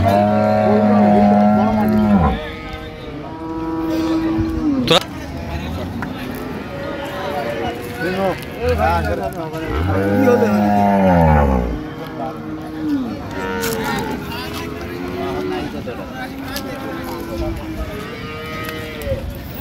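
Cows moo loudly and repeatedly with long, low calls, some overlapping, amid a busy background of people and animal noise at a cattle market.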